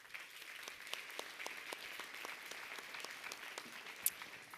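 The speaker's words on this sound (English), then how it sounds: "Let's give a round of applause to our opening speakers" Audience applause for opening speakers at the World Bank Spring Meetings 2026 launch of Water Forward: steady, moderately faint clapping from a room of people, continuous and even.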